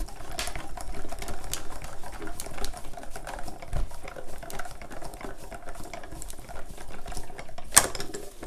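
A Diamond Press die-cutting machine pushes a Slimeline cutting folder through its rollers with a steady mechanical whirring and fine clicking, close and moderately loud, ending in one sharp click near the finish.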